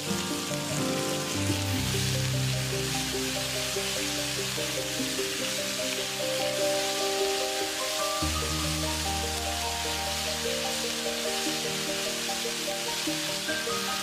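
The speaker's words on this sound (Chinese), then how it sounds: "放入白菜帮，先翻炒1分钟。" Cabbage stems stir-fried in a wok, giving a dense, continuous loud sizzle throughout, with tonal background music layered underneath.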